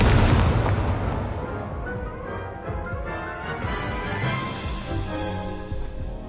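An Incendio fire spell cast in the video game Hogwarts Legacy, opening with a loud fiery burst that rolls into a rumbling, crackling roar and fades gradually over several seconds.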